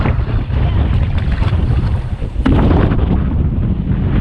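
Strong wind buffets the microphone on a canoe trip in the Boundary Waters, a loud, rumbling roar with gusty surges and a sharp burst midway, mixed with faint water wash against the hull.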